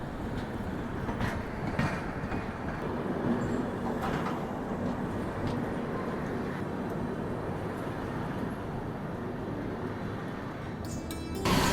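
Howrah–SMVT Bengaluru Humsafar express train running, a steady rumbling roar of wheels and carriages heard from on board, with faint rhythmic clatter throughout and a brief rattle at the close.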